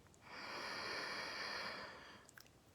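A long, steady inhalation, soft and close, rising after a quiet start and fading gently near the end with a few small clicks.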